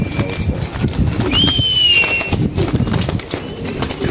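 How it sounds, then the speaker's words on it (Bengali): Male racing pigeons at a bird market coo and shuffle amid a steady crowd murmur, with a brief whistling tone and soft wing movement close by. "একটা নর কবুতর"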